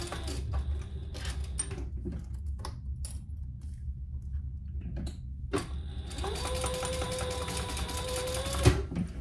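A home sewing machine basting fabric pieces together for a waist pack, its steady whirring run filling the last few seconds after quieter handling and clicking sounds.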